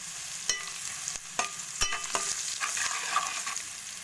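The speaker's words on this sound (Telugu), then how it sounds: "దీని తర్వాత 1 చెంచా పసుపు వేసుకొని మంచిగా కలుపుకున్నాం." Onions with salt and turmeric are stirred in a frying pan for fish curry, a spoon scraping and tapping in uneven strokes over a continuous close sizzle.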